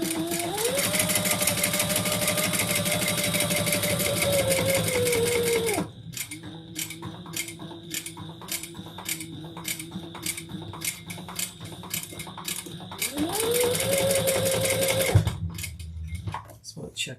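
A sewing machine top stitches a leather messenger bag, running in long steady bursts with a clicking, mechanical rhythm and pausing between passes, while a voice speaks over it.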